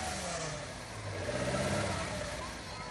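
A rally car engine runs at a stage checkpoint in pouring rain, a mid-pitched engine drone that swells and fades over a wash of rain noise, with a voice talking over it.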